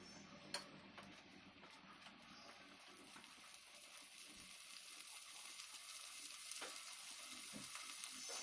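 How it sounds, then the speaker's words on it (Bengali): Ginger frying with spices in a pan gives a faint, steady sizzle that slowly grows stronger, with a sharp tick near the start and occasional light knocks. "আদাটা একটুক্ষণ ভেজে নিয়ে"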